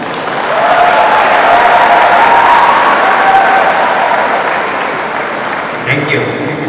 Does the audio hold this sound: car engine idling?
no